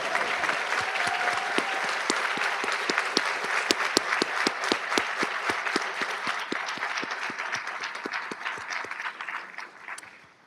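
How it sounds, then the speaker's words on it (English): An audience at a community college PTK induction and student awards ceremony gives sustained applause, a dense wash of many hands clapping that fades out at the end. "If we can give the students another big round of applause"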